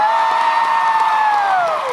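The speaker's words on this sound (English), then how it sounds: "Round of applause for Thor." Loud cheering and applause from a comic convention panel audience for Thor, a packed room roaring with sustained whoops, shouts and clapping, with a high cheering voice rising and then falling away.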